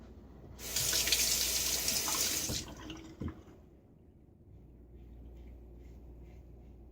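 A bathroom tap runs in a strong close hiss for about two seconds while a razor is rinsed, then shuts off with a clunk, leaving faint room noise and light drips.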